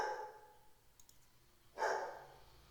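A dog gives a single short bark at moderate distance, preceded by quieter clicking sounds in an otherwise calm indoor setting.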